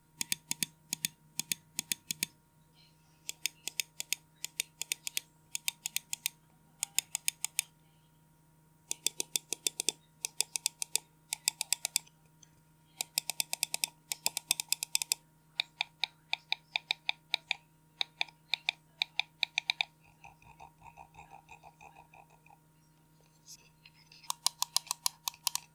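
ATK Blazing Sky ZERO computer mouse buttons clicked close up in quick bursts and steady sequences of sharp clicks, separated by short pauses, over a faint steady hum.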